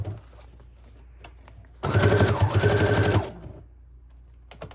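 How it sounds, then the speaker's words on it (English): A sewing machine stitches through a paper journal folio made from printer paper, a steady loud whirring run of about one and a half seconds between quiet pauses. "And I'm going to switch to a straight stitch just to change it up."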